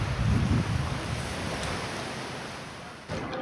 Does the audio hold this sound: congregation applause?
no